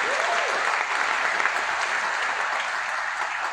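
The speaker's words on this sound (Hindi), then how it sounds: "सर के लिए जोरदार तालियां।" An audience at an Azadi March stage session bursts into loud, dense applause, a steady wash of clapping from a large crowd with no voices standing out.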